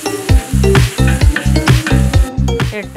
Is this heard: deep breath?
no